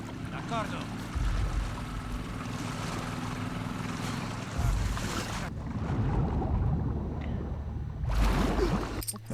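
Outboard-style boat motor in The Last of Us Part II churns steadily across water, its low drone swelling and easing over several seconds amid splashing and wind, with no talk.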